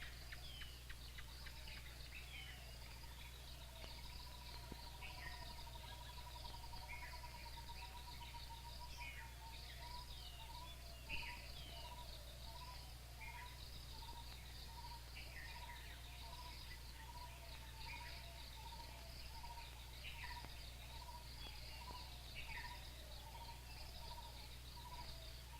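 Dense Sri Lankan forest chorus of insects and animals, with steady cricket trilling, high buzzing insects and scattered bird chirps layered over a constant low hum, continuous and even throughout.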